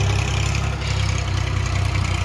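A tractor engine runs steadily close by, a low, even throbbing idle that holds without a break for the whole short stretch, with no voices over it.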